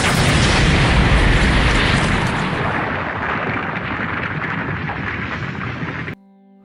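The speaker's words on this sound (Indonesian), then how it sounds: "Tak jauh dari sana, sebuah ledakan muncul." A single heavy explosion roars loudly at first, then rumbles and slowly fades over several seconds before cutting off abruptly into near silence.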